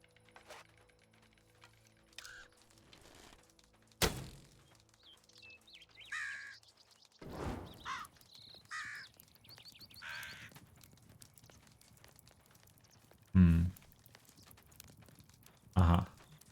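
Bird cawing in Medieval Dynasty, with a few harsh caws spread out over a quiet outdoor scene, broken up by occasional louder thumps.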